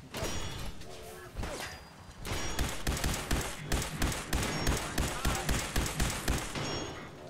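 Repeated gunshots ring out in a Fallout 4 firefight, with a steady, rhythmic run of loud, punchy shots and thuds that continues for several seconds, plus a few brief gaps and swooshes.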